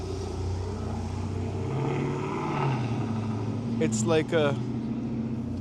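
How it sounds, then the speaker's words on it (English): A loud Dodge Charger drives past on a Beverly Hills street at night with a rising, roaring engine drone; a person speaks near the end as the car passes. "it's just a really loud car"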